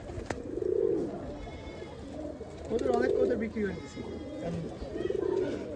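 Coffee-coloured Giribaz pigeons coo in a Rajshahi pigeon loft, three bubbling coos rising and falling at a steady interval, fairly close, with a background murmur throughout.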